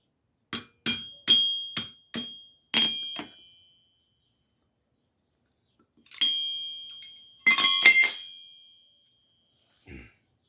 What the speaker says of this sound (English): I can go ahead and knock it all the way out now.